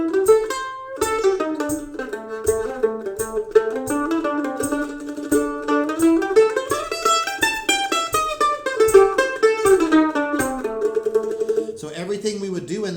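A blues lead line built on the A modern blues scale, played as a clear, close melodic guitar phrase with bending, sliding notes and a steady pulse of accompaniment, rising in pitch midway and falling back.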